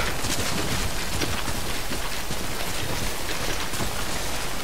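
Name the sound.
rain in the video game Death Stranding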